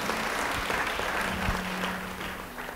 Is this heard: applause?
yes